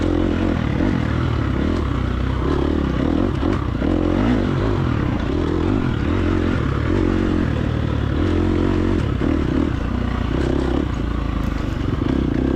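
A fuel-injected four-stroke dirt bike engine in a hare scramble race in the TORCS video game, droning loud and steady throughout with shifting revs and clattery mechanical grit.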